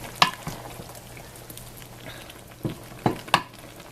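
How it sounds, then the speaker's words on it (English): Apples being stirred in a pot while cooking into caramel apple jam give a soft sizzling bubble, with several close scraping knocks of the spoon against the pot at uneven intervals. "So we'll just give it a good stir"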